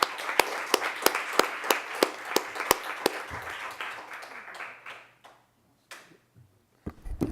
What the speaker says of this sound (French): Je propose qu'on finisse par un applaudissement à Céline.